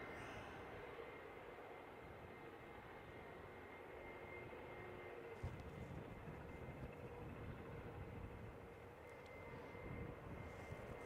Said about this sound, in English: And Jetstar starting up.